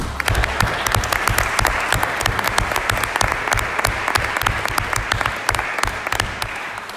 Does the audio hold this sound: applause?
yes